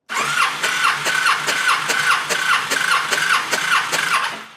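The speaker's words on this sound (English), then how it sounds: "I gotta hold the throttle open while I crank it" Honda VTX1300T motorcycle engine on a 2009 bike cranking over on the starter with the throttle held open for a compression test, a steady rhythmic chugging whir with regular compression pulses, loud and close, no talk.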